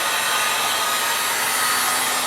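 A heat gun shrinking plastic wrap around books blows with a steady, loud whooshing roar, continuous and close.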